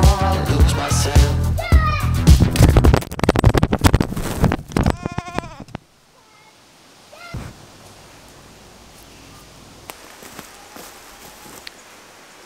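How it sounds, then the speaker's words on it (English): Goats bleat a few times, sparse and fairly faint, in a quiet outdoor stretch that follows several seconds of loud music with singing. "Those goats are a nuisance."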